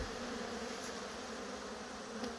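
Honey bees robbing a hive in a bee yard, a constant close buzzing drone of many bees at steady level, with faint individual wingbeats passing by now and then.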